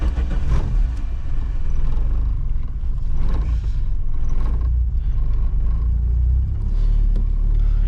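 An engine turns over and revs with a deep, loud rumble that swells and dips with each throttle blip, steady throughout, no talk heard.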